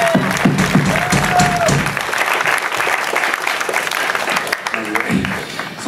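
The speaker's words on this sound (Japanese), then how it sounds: "ファクトに拍手しましょう、マジで。" A packed live-house crowd applauds a band, a broad, continuous clapping that starts under a voice and carries on steadily, with a few cheers rising through it.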